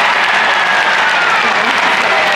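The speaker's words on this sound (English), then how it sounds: "few fans are cheering" Applause and cheering from a crowd of AFL football fans at a St Kilda versus Western Bulldogs match, a steady wash of clapping and shouts that fills the stands.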